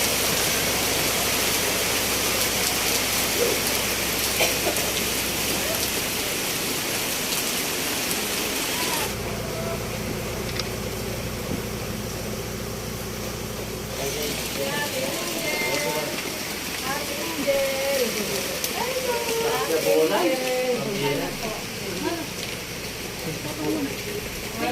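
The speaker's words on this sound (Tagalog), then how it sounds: "Sobrang lakas po ng ulan guys." Heavy rain pours down steadily as a loud, continuous hiss on surfaces nearby, with voices talking faintly under it toward the end.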